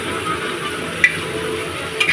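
Spice masala sautéing in hot oil gives a steady close sizzle, with a couple of sharp spoon clinks against the pan as it is stirred.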